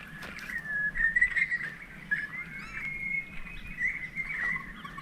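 Birdsong and whistled calls ring out around a bush campsite in Murray-Sunset National Park, moderately near and continuing over a low, steady background hum.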